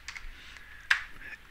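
A few quick clicks of typing on a computer keyboard, close and fairly crisp, with one sharper keystroke standing out in a short burst.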